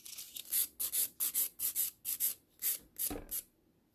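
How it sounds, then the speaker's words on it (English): A nail file rasps across a builder gel nail in about a dozen quick, even back-and-forth strokes, soft and close-up, before the rubbing stops and faint quiet follows. "this is filing very easily"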